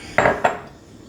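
Metal cooking pots knock and clatter as they are swapped on a counter, two quick clanks close by with no talking.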